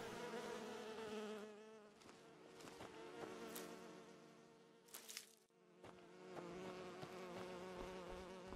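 Bees at a beehive in the fantasy role-playing game Enderal, a continuous dense buzzing drone with wavering pitch and a few brief louder swells, quiet overall and without speech.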